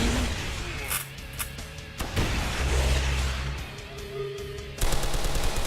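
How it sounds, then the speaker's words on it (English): Recorded machine gun fire for a video game sound effect, with loud bursts and sharp repeated shots interrupted by short pauses, dense and close across the whole clip. "The machine gun sound of the game is just one very small file that repeats what the player is pressing the fire button."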